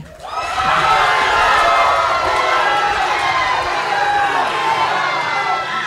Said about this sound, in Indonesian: Seluruh hadirin dipersilakan untuk tepuk tangan sekarang.